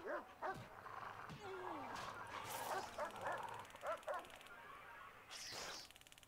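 Dog barking in the prison management game Prison Architect: several short yaps and whiny barks scattered over a busy, muffled game background, with a voice talking alongside.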